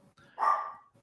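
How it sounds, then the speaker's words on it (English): A single dog bark rings out at moderate distance with a short tail, set against a quiet room. "Sorry, I have a dog barking in the background."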